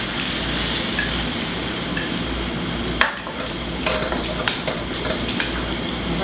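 Thai basil chicken sizzles and fries in a hot wok as sauces are stirred in, a steady broadband hiss with a sharp utensil clank at three seconds and lighter scraping taps after, close and fairly loud, with no talking.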